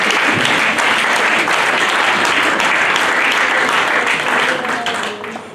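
A church congregation applauds and cheers in praise of the Lord, loud sustained clapping with voices mixed in, fading slightly at the end.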